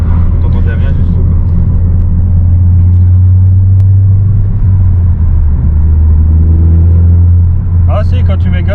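A car's engine rumbles loud and close as the throttle is opened, its drone building steadily from inside the cabin while people talk over it.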